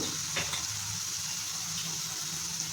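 Banana flower fries with spices in a pan, a soft steady sizzle with a couple of faint stirring scrapes, fairly quiet throughout.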